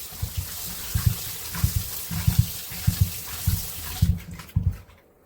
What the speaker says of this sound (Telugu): చికెన్ని ఒకటికి 2 సార్లు అయితే బాగా కడగాలన్నమాట.